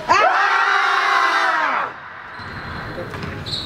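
A group of students screams together in a loud sustained burst for a screaming sheep game at an orientation, then cuts off into quieter room noise and murmuring.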